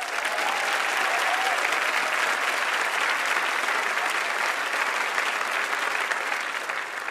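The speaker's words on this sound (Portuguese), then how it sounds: "Uma salva de palmas." A theater audience applauds for an actress at a birthday celebration on stage, with dense, steady clapping that holds loud and even throughout.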